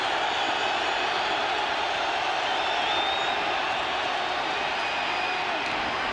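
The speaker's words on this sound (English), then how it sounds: "he's using hand signals again because of the crowd noise" Stadium crowd noise during a 1991 Raiders at Seahawks football game, a steady loud roar of thousands of fans with faint whistles on top, continuous and unbroken, with commentators talking over it.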